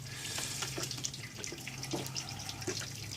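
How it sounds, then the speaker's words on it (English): Hot water is sprinkled over grain during homebrew beer sparging, making a steady, fairly faint splashing trickle with scattered drips. "Just kind of sprinkling this around in there. This is the amazing high-tech sparging process."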